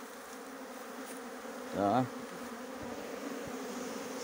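A large swarm of Italian honey bees, worked with heavy smoke, makes a continuous droning buzz throughout. A brief spoken word rises over it near the middle.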